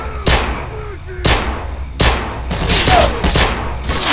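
Gunfire in the video game S.T.A.L.K.E.R.: Call of Pripyat with the Misery mod: three sharp, loud single shots at even intervals, followed by a denser burst of shots over a rumbling background.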